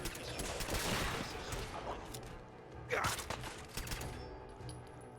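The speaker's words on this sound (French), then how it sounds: "le bruit du silencieux est tellement cool" Suppressed gunshots from the video game Fallout 4, a quick series of muffled thuds and cracks in a burst, fairly faint and low in level.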